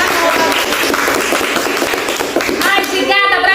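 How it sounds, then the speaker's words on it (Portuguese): A studio audience applauds with dense, steady clapping that fills most of the stretch. Voices begin to come through near the end. "Uma salva de palmas"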